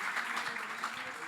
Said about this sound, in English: And yeah, you can applaud for that.